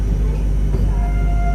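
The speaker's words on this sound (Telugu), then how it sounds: "మన పక్కన కూడా ఏదో ప్యాసింజర్ ట్రైన్ ప్యారలల్గా అంబాలా కంటోన్మెంట్ జంక్షన్కి వస్తుంది" A passenger train pulling into Ambala Cantonment junction alongside a Vande Bharat train, heard as a loud, steady low rumble and rolling drone without a break.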